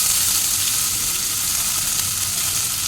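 Ginger paste fries in a pan, giving a steady, bright, crackling sizzle that stays even and close throughout, with no talking over it.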